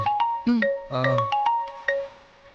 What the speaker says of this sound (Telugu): ఆయనే ఫోన్ చేస్తున్నా